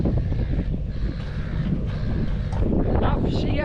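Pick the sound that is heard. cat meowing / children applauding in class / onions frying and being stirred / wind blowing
wind blowing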